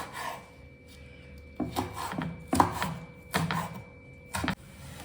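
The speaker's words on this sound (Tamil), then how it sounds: "பச்சை மிளகாய் வந்து சின்ன சின்னதாக கட் பண்ணிக்கலாம்." Green chillies chopped into small pieces with a knife on a board in a home kitchen, giving a run of several close, sharp knife taps at uneven intervals over quiet background hum.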